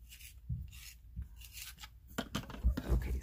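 A non-photo blue pencil is sharpened close by in short, quiet scraping bursts, separated by gaps, with the sound growing denser and louder toward the end.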